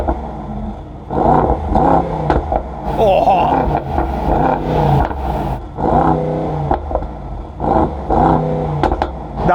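A Mercedes-AMG GT four-door engine revs repeatedly in sharp bursts, the exhaust rising and falling in loud blips, with a brief exclamation from a person partway through.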